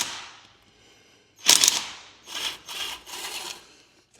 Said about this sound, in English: impact gun.